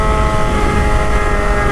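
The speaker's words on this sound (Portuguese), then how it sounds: "Vai chegando de moto ainda." Old Honda Titan motorcycle engine running nearby, a steady loud buzzing drone with a continuous tonal whine and no break.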